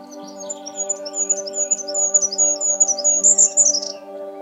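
A goldcrest, Europe's tiny crowned songbird, calls in a rapid series of thin, very high chirps and trills that grow louder and denser, over a steady soft musical drone.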